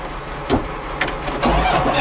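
Old vehicle engine on a farm cranking over: a noisy burst of starter churning with a few sharp surges, then the motor catching into a rough, loud rumble, heard up close without talk.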